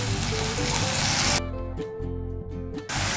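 Sliced onions and tomato paste fry in a pan with a loud, dense sizzle, which then cuts to quieter sputtering broken by a few sharp scraping stirs.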